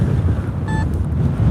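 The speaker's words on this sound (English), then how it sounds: "the wind's kicking up" Wind blows hard into a microphone outdoors on a roadside while someone hunts for coins. It makes a loud, constant low rumble and buffeting, with a faint brief tonal chirp partway through.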